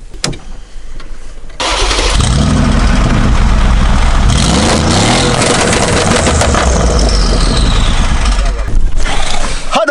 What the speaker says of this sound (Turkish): Bu yüzden sadece bir nota egzozdan size geliyor.